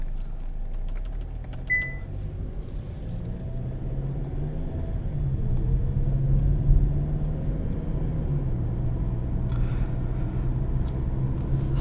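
A 2021 Kia Sportage S Nightfall Edition compact SUV drives on the road with steady engine and tire rumble heard from inside the cabin, swelling slightly midway, with no talking.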